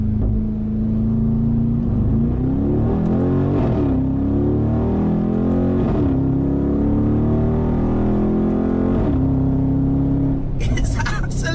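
A Mansory Mercedes-AMG G63 in Philipp Plein Star Trooper trim revs loudly while driving, its V8 note rising and falling through several gear changes, close and continuous, with a person talking over it.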